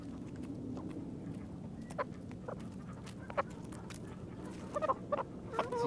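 Easter Egger hens clucking softly around a farm coop during winter chores, scattered short clucks and calls over a steady low background hum, with no talk.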